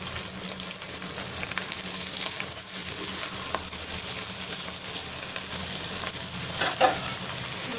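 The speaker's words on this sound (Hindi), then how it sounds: "आलू को भरते हुए इस तरीके से भूनेंगे।" A mashed potato filling with green chili fries in a pan, making a steady moderate sizzle with scattered stirring scrapes and clinks and a brief louder knock near the end, with no voices.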